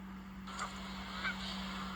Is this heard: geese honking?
yes